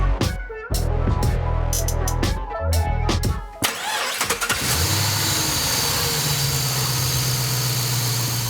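A 2012 Chevrolet Caprice PPV 6.0L car engine cranks with a few quick whirring bursts, catches, and settles into a loud steady rumbling idle up close.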